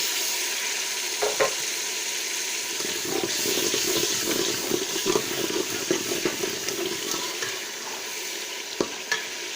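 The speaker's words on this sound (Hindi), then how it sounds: "मसाले को मैं अच्छे तरीके से भून लूँगी।" Steady sizzling of spices frying in a pan for a potato and radish pod dish, with scraping and stirring clinks on top, continuous and close, no voices.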